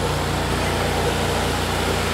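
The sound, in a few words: two generators on a truck powering dental equipment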